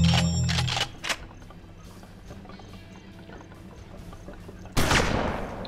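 Gunshots in the video game Hard West: a sharp burst of several shots at the start, a quieter stretch with low game ambience, then another loud shot near the end.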